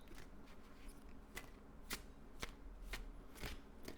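Tarot cards are shuffled in short crisp bursts, roughly one every half second, close up and with no talking.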